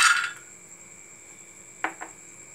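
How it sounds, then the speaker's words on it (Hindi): Dried lentil dumplings (badi) go into a hot pan on a gas stove: a brief dry rattle at the start, then two light clinks against the pan over a faint steady hum. "पैन गरम हो गया है, अब हम इसमें डालेंगे बड़ी।"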